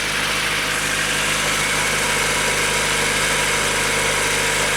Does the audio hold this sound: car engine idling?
yes